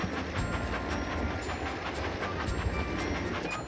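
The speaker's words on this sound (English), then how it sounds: "Swipe left or right to keep the train on the tracks." A small cartoon train in a children's steering game rolls steadily along its tracks, giving a continuous rumbling clatter with faint rhythmic clicks, heard alone at a moderate level.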